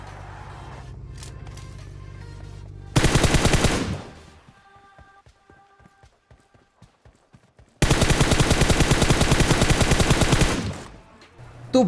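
Gunfire in a battle royale video game: two long, loud bursts of rapid automatic fire, each several seconds long, separated by a quieter stretch with faint clicks and tones.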